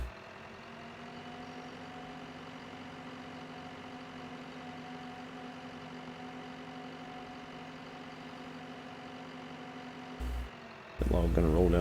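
A tractor engine in Farming Simulator 15 runs at a steady idle, a constant low droning hum that holds unchanged before a brief burst of louder noise near the end.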